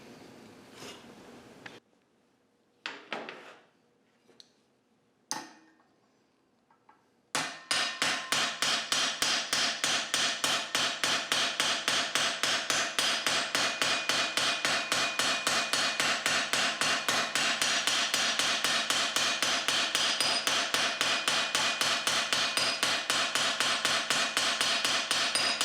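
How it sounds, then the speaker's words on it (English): Hammer striking an aluminum sheet to stretch and curve a flange for a track nose part: a few scattered taps, then a long, steady run of rapid, ringing metallic blows, close and loud. "When I hit this piece of metal perpendicular to the edge, it will make this thinner and longer and will curve this flange."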